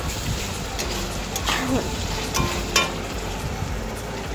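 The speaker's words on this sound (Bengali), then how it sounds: "আজকে চিকেন রান্না হচ্ছে" Chicken curry with potatoes cooks in a pan with a steady low sizzle and a few soft clinks of a utensil, with faint voices in the background.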